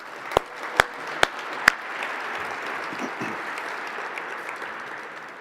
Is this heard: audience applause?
yes